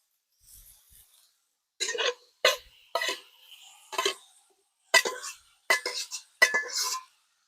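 Lamb offal, kidneys, heart, lungs and tail fat, being stirred on a saj over fire: a run of sharp metallic scrapes and clinks, about eight distinct strokes, close and fairly loud, with a short quiet pause early on.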